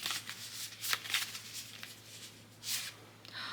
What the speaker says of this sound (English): let me just quickly shuffle the cards.